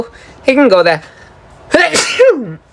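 A single sudden sneeze bursts out loud and close amid casual talk about an action figure's jointed arm, with a person speaking right before it.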